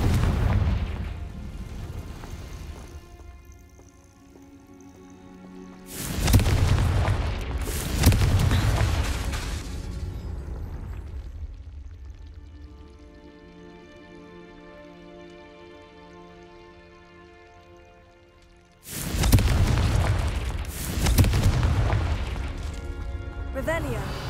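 Confringo fire-blast spell explosions in Hogwarts Legacy, two loud booming bursts of broadband blast, the first pair around six to eight seconds and another pair near the end, separated by quieter game ambience and music.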